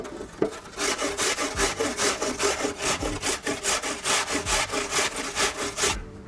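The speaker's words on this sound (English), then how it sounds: "So we'll finely grate 1 large apple." A large apple is rubbed firmly over a fine grater in a quick, even rhythm of rasping strokes, close and clear, with no voices.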